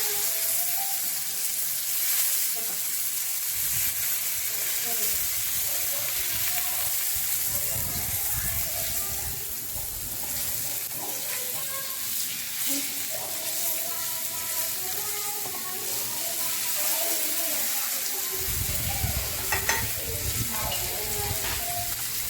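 Prawns, mackerel and wet Bombay duck frying Konkan style in a pan: a steady crackling sizzle that runs throughout, with louder bursts of spitting oil now and then.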